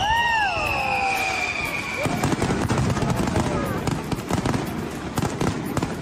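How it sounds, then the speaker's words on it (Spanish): Fireworks at the Fallas festival in Valencia: whistling rockets rise at the start, then a dense, loud barrage of rapid crackling bangs and pops continues throughout. "si hay algo que a mí me gustan es ver los fuegos artificiales"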